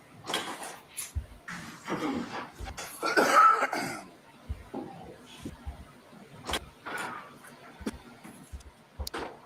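A witness testifying at a courtroom trial gives several scattered coughs and throat-clearing noises, fairly quiet and irregular amid low room noise and faint talk.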